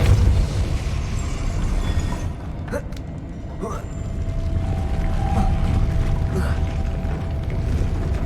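Depulso force spell cast in Hogwarts Legacy, a short burst followed by clanking mechanisms and creaking machinery that carries on over a steady game ambience, with a voice speaking briefly.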